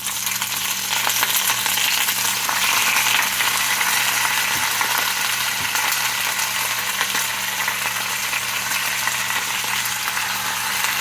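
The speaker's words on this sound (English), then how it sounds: "Now I'm adding the spinach." Baby spinach hits a pan of roasted garlic and sautés with a loud, continuous sizzle. A few soft stirring clicks and scrapes sit on top, and no one speaks.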